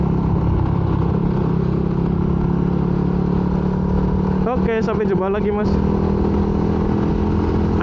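A Honda Sonic motorcycle with a modified exhaust passes close by for about a second with a rising, rasping engine note, over steady road and wind noise while a person talks.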